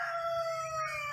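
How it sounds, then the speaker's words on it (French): Kéké the rooster crows in a long, drawn-out call, bright and close, with harmonic bands held steady across the whole stretch. "il me fait de la peine quand il fait son cocorico"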